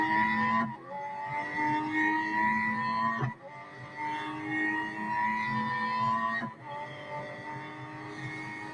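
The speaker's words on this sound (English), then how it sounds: "So I'm accelerating out of the corner very hard." Race car engine in the Real Racing 3 mobile game revving hard, with rising pitch on each gear and sharp drops at the shifts, three clear upshifts in a loud continuous run.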